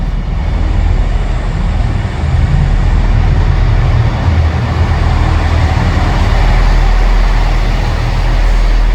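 A steady, heavy low rumble of a Northern train arriving at a station platform on a line shared with the Newcastle Metro, constant and loud throughout with broadband mechanical noise and no talking.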